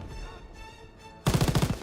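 Machine gun fire in Call of Duty WW2 during a beach assault, a sudden loud burst of rapid rhythmic shots after a quieter tonal stretch.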